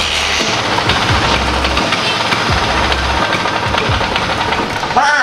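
A classic Vespa scooter engine with carburetor jetting trouble runs loud and close, sputtering unevenly instead of settling into an idle, with a steady rough drone and irregular knocks throughout.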